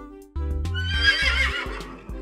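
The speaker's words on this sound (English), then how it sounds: "Let's take Mitzi for a quick horse bath" A horse, a filly, gives a loud, close whinny lasting about two seconds, rising and then trailing off into a shaky neigh, with no talk over it.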